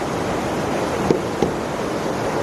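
A swollen mountain creek along the Pacific Crest Trail rushes in a constant broadband roar, close and loud, with a couple of faint brief knocks partway through.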